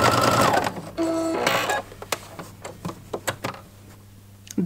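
Sewing machine understitching a garment facing to its lining, close to the edge: steady mechanical whirring in bursts, with a loud run at the start followed by short taps and brief stitch clusters, close and clear with no talk.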